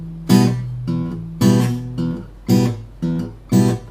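Acoustic guitar Travis picking pattern, each bass note on a low string followed by a chord on the top three strings, repeating in an even alternating rhythm, close and clear with no voices.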